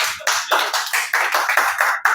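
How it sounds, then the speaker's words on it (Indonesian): A small group claps briefly for a presenter at a bag-selling training session, a short run of close, sharp, evenly spaced claps. "Baik, tepuk tangan buat Pak Fitri ya."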